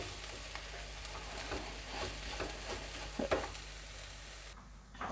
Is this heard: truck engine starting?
no